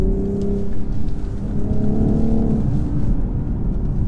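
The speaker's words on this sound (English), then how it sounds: "give it throttle and it tightens its line nicely." A 2019 BMW X5 40i SUV engine pulls hard under throttle, a loud steady drone with rising tones as it accelerates, heard from inside the cabin with no talking.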